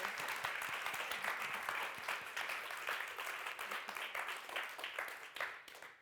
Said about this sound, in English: Can we give Cam a big round of applause?